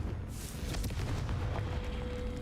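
A Confringo blasting curse blows apart a soldier statue in Hogwarts Legacy on Switch 2, giving a loud sustained rumbling burst with crackling debris that holds steady for a couple of seconds.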